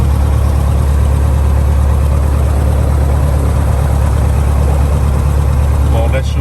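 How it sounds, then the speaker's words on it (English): A small aircraft engine warming up before flight, an engine with a history of trouble at the end of flights and on hot starts, runs at a steady loud idle throughout with a constant low drone and no talk. "On laisse chauffer un peu plus avant de pousser le moteur."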